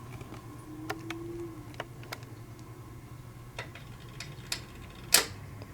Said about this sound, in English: I love the sounds it makes, so the clicking is super cool.